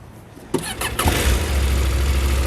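A motorcycle engine fires and revs up loudly and close as the bike is eased up a single loading ramp, a couple of quick throttle blips giving way to a sustained, rumbling pull.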